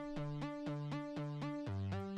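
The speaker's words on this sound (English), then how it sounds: "which is a bass preset from the Retro Synth in Logic" Bright Cycle bass preset from Logic's Retro Synth plays a repeating bass pattern on the first and fifth notes, with bright, buzzy plucked synth bass hits about every quarter second and a pitch change near the end, steady and close with no voices.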